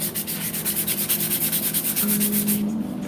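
Rapid, rhythmic back-and-forth rasping of sandpaper on a dried gourd's hard, hollow surface, close and steady, with a faint low hum behind it.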